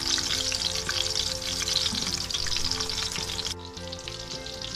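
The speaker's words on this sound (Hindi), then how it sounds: "ऐसे ही सारे कबाब स्टिक मैं इसमें डालती जाऊंगी और हल्की आंच पे इन्हें फ्राई कर लूँगी।" Chicken kebab sticks fry steadily in oil over low heat, a dense continuous sizzle with faint stirring clinks, staying loud and close before easing slightly near the end; no one speaks.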